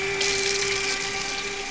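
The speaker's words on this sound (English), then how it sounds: "then we simply top it off with some really hot water" Really hot water poured into a container holding fish fertilizer, a steady close rush of water with a constant ringing tone under it, alone without talk.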